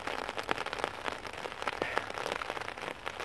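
Rain falls steadily outdoors at an English castle, a dense hiss of drops with scattered louder pattering spread evenly throughout, no one speaking.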